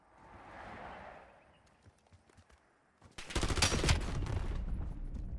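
Automatic gunfire from a gun in a free-for-all video game match, a loud sustained rapid burst starting suddenly in the second half after quieter rustling and scattered clicks.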